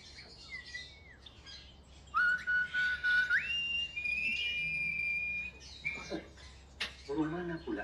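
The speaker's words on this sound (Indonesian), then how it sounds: "Burung mana pula yang siul?" A bird whistles a clear sustained call with pitch steps, followed by shorter chirps and tweets, set in a 1960s Malay film scene with low background hum and some voices.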